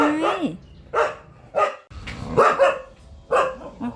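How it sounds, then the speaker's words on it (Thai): Several sharp, close dog barks and yips come in uneven bursts with short gaps, and the dog sometimes slides into whiny, whimpering tones. A person's excited voice is heard among them in a home setting. "จะเห่าอะไรนังหนาฮะเห่าอะไร"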